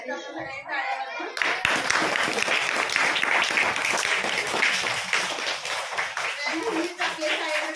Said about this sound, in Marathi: त्यांच्यासाठी आपण सगळ्यांनी टाळ्या वाजवून